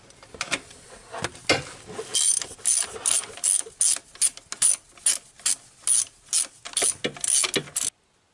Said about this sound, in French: je peux serrer mes 3 boulons que j'ai bien rapprochés déjà